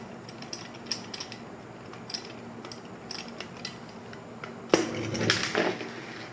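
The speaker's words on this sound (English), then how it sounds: "stick the screwdriver in there, unscrew this screw that's in this hole here" A screwdriver works a small screw out of the plate on an adjustable doorbell mount. Faint handling sounds lead into a brief, louder burst of metallic scraping and clicking near the end.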